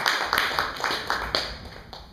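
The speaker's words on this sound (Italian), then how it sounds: "un applauso a tutti noi" Audience at a conference on religion as an instrument of peace clapping, a rhythmic series of claps at a moderate distance, with some background voice or murmur beneath.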